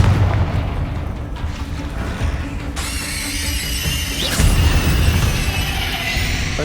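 Confringo blasting-spell explosions in Hogwarts Legacy, deep booming blasts with rumbling tails and bright bursts, a new hit arriving midway over continuous battle noise.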